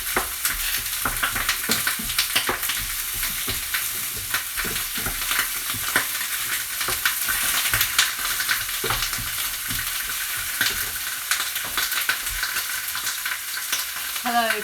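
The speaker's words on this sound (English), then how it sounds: "So I'm just stirring the onions and lardons around, getting them coated in a bit of olive oil." Onions and lardons frying in olive oil while being stirred around a pan: a loud, continuous crackling sizzle with frequent spatula scrapes and pops throughout, no talking.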